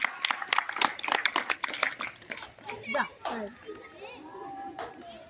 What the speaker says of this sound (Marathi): टाळ्या वाजवायच्या सर्वांनी